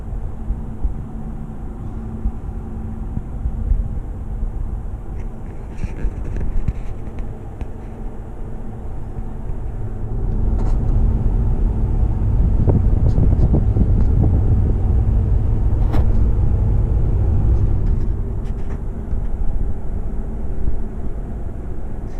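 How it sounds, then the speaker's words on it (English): Steady low tire and road rumble inside a 2019 Ram 1500 Rebel pickup while driving, a continuous broadband roar that swells somewhat louder partway through, with no talking. "You can hear a little bit of the noise from the tires, but it is not bad at all."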